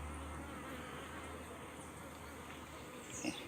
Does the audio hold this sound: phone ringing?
no